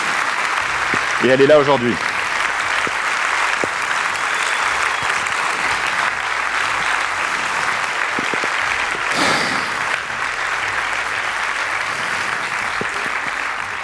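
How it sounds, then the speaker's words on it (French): Sustained audience applause in a large hall in Marseille, broad and steady crowd clapping lasting the whole stretch, with someone speaking briefly over it and a few louder bursts. "En l'applaudissant très fort"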